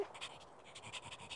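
A dog pants in quick, steady breaths, soft and close, with no one speaking over it.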